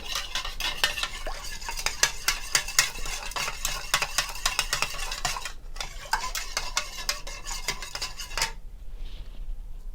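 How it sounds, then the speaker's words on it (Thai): A spoon stirs granulated sugar into iced green tea, clinking rapidly and steadily against the cup for about eight seconds before it stops, close and fairly loud. "น้ำตาลทรายค่ะหนึ่งช้อนโต๊ะค่ะ คนให้ละลายนะคะ"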